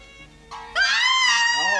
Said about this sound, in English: Scream was in the last scene.